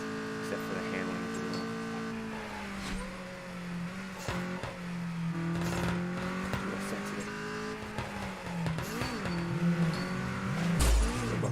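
Race cars in the video game Super Street drive, rev and crash, making a continuous engine drone with shifting pitch, occasional impacts and tire noise, steady and fairly loud throughout.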